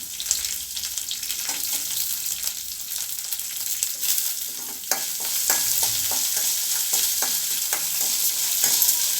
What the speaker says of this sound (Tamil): இது கொஞ்சம் நேரம் வெங்காயம் கொஞ்சம் நல்லா வதங்கிக்கிறட்டும்